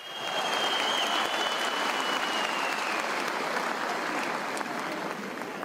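Large crowd at a CHP political rally in Eskişehir, where mayoral candidates are introduced, applauding loudly and steadily throughout, a dense sustained wash of clapping with crowd noise.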